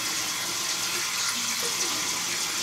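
Tap water runs steadily into a bathroom sink while a face is wetted during a double-edge razor shave, a continuous close hiss with no talking.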